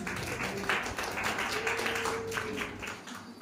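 Faint applause from a small class group, scattered light clapping and tapping running steadily throughout, fairly distant and low in level.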